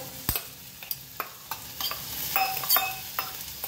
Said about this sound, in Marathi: आता शिमला मिरची पण टाकून घेऊया आपण।